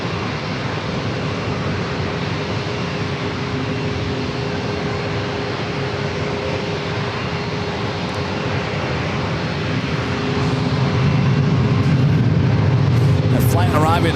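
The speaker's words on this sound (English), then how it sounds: "Flight arriving on runway 27, Southwest Airlines flight 1493 coming up from Phoenix, Arizona. It was a 737-700." A Southwest Airlines Boeing 737-700 lands on runway 27 at San Diego airport with a distant jet roar that swells louder toward the end, with voices faintly in the background.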